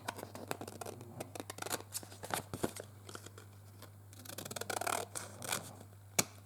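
Quiet, close snipping and rustling of scissors working through paper, irregular cuts with crinkling between them, against a low steady hum.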